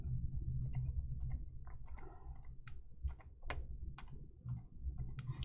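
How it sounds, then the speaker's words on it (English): Keys clatter on a computer keyboard in irregular bursts of quick clicks, some single taps and some rapid runs, close and fairly crisp over a steady low hum. "I'm just typing stuff in as I see it."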